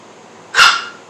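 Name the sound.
dog barking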